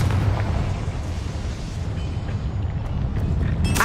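A Confringo spell blast in Hogwarts Legacy, heard as a dense, sustained rumbling boom with heavy low-end roar that continues steadily throughout, with a brighter crackling burst near the end.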